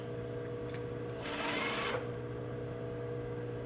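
A sewing machine stitches a quarter-inch seam on a pant piece with a double welt pocket, a short burst of steady whirring over a constant low background hum.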